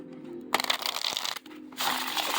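Illuminations Tarot deck with thin cardstock and teal edges being shuffled, two bursts of papery riffling and flicking separated by a brief pause, close and fairly loud with no talking.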